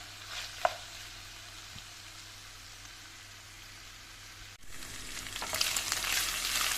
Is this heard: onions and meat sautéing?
yes